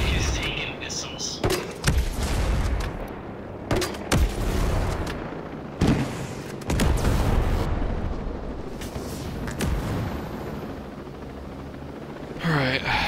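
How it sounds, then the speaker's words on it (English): Missile strikes pound a heavy armored vehicle in Ghost Recon Breakpoint, a dense run of booming blasts and rumbling impacts that repeat for several seconds, with faint voices low underneath. "That's pretty fucking heavy armor. It is taking missiles."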